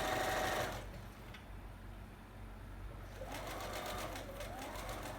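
A sewing machine stitches white fabric while making a face mask, its steady mechanical whir running in bursts with a brief pause between runs, close and fairly quiet.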